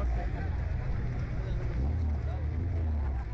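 Car engines roar and rumble at a clandestine night street race in Maipú, a dense steady drone of motors mixed with crowd chatter and background music.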